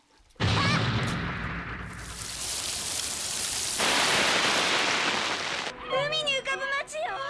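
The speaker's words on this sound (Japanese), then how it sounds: "宮崎さんが本当にうまくいったという雨" Heavy rain from a Studio Ghibli animated film pours in a dense, steady hiss with low rumbling undertones, swelling midway, then giving way to music at the end.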